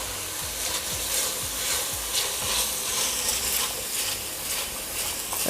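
Food sautéing in a pan for lasagna gives a continuous close sizzle with rhythmic scraping strokes of a spatula stirring, and no talking.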